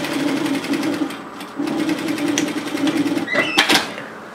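A sewing machine runs steadily along a dress seam for an apron dress, its motor whirring with rapid needle ticks, pausing briefly midway, then ending in a few sharp clicks and clatters.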